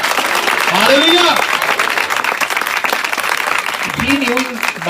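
Congregation clapping during an Urdu-Hindi sermon, a dense sustained burst of applause with a voice calling out over it near the start and again near the end.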